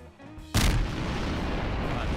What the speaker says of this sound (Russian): Улетаем подальше и смотрим, кто из них выдержит мощный взрыв.